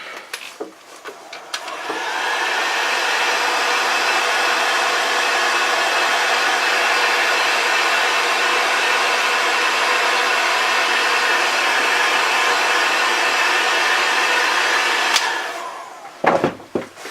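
A heat gun shrinks tubing over headlight wiring on a Dodge 2500 harness. Its steady, loud blowing hum runs unbroken for about thirteen seconds between brief handling noises at either end.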